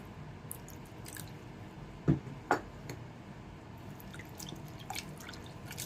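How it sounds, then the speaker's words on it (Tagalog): Vinegar is added to raw tanigue kinilaw seasoned with salt; two brief, soft liquid drips and splashes stand out near the middle over a quiet background. "Lagyan natin ng suka."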